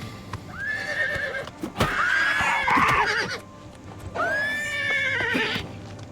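A horse in the video game Oblivion Remaster neighs loudly twice, long shrill whinnies with hoof clops and a thud between them.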